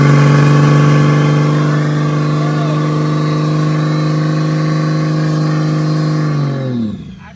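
A car fitted with a TH400 automatic transmission and a bump box creeps forward, its engine holding a loud steady drone before winding down abruptly near the end.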